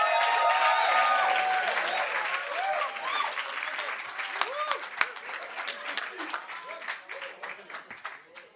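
A crowd at a London coding bootcamp demo day applauds a developer team, starting as dense, loud clapping and thinning into scattered claps and a few voices over about eight seconds.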